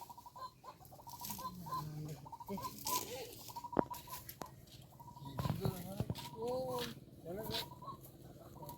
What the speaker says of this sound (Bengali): ওদিকে ডাক পাখির ডাক শোনা যাচ্ছে।